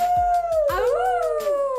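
People imitate a dog's howl with their voices, producing long, loud, wavering tones that rise and fall, with overlapping voices joining in.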